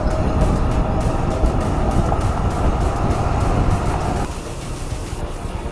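Motorized tricycles rumble along a road near Taal in Batangas, a steady close engine drone with passing traffic noise that drops slightly near the end; no talking.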